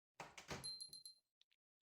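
A door is pushed open in the video game Behind the Broadcast, giving a brief rattling, scraping burst about a second long, then a couple of faint clicks before silence.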